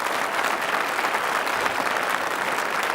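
Concert audience applauding, a steady dense wash of many hands clapping at once, even and sustained from start to finish, with no voices standing out.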